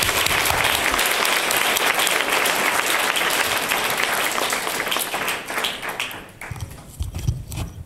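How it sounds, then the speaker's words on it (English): Audience applause for a panel of students at a women-in-tech event: dense, sustained clapping from a crowd that carries on for several seconds, then thins out toward the end. "Let's give our panelists a round of applause"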